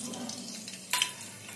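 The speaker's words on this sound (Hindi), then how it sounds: "इसे हम फ्राई होने देंगे।" Whole garam masala spices (bay leaf, a cinnamon piece and four cloves) sizzling in four spoons of hot oil, a faint steady fry with a brief sharper sputter near the middle.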